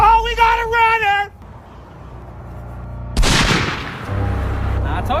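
Loud gunfire aimed at a fleeing runner breaks out suddenly after a voice and a short lull, followed by a sustained, rumbling volley.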